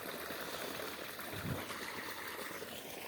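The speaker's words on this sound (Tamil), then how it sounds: "அங்கேருந்து கிட்டத்தட்ட அந்த தண்ணி ஊற்றுதுங்க பாருங்கள்" Water pouring from a bore well on farmland, a steady, moderately faint gush and splash with a continuous wash of flow and no voices.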